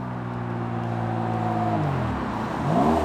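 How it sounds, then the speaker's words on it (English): A loud car drives past outdoors, its engine note rising and falling with a strong low rumble that swells toward the end as it nears. "There's some weirdo driving a really loud car."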